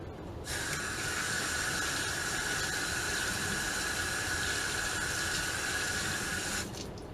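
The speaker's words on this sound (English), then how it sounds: "So, I'm gonna wash my hands." Hands being washed under a running tap, a steady close rush of water that starts abruptly and stops after several seconds.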